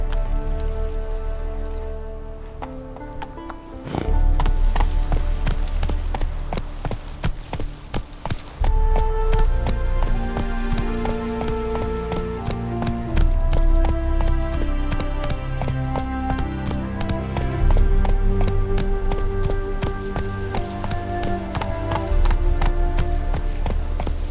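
Geralt's horse Roach galloping in The Witcher 3: Wild Hunt, rhythmic hoof clip-clop running steadily under a swelling orchestral music score, with brief pauses as the pace shifts.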